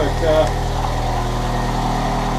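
A parts car's engine idles steadily just after starting, with a low, even rumble and a slight stumble, close and loud throughout.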